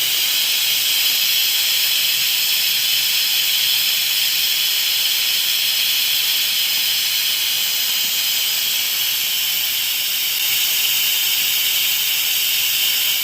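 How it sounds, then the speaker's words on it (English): An Instant Pot vents its steam after cooking spaghetti, a steady loud hiss that runs unbroken for over ten seconds, close by and with no voices. "it lets out the steam, so it's you put it to venting"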